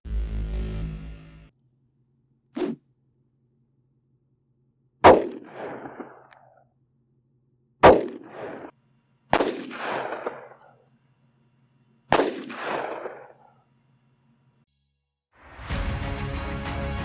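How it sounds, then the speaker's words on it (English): .38 Special rounds fired from a Smith & Wesson Model 638 revolver into clear ballistic gel at a range: four loud, sharp shots spaced a few seconds apart, each followed by a short ringing echo, with quiet gaps between. "Let's shoot it through my wife's Smith & Wesson Model 638 into clear ballistics"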